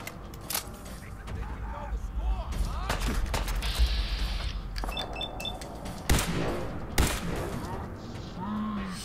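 Gunfire in Fallout 4 on PS4, with a few sharp shots cracking through a dense, noisy game soundscape of clatter and rumble, two louder reports near the end.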